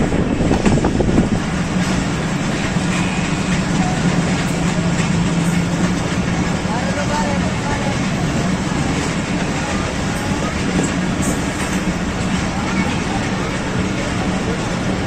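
A Pakistan Express passenger train rolling alongside a freight train, a steady loud roar of wheels on rails with clickety-clack rhythm throughout, close and continuous.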